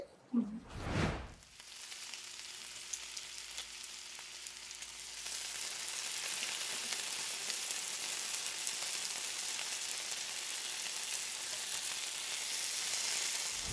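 Mandi masala spice mix sautéing in a pan, a loud steady sizzle that builds after an initial clatter and then holds, with no talk over it.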